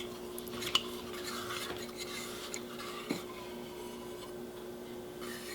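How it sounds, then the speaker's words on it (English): Almond butter going into a mixing bowl, quiet scraping and stirring with a couple of soft clinks of utensil on the bowl, close and low in level. "Now I'm going to put my almond butters into the bottom of our bowl."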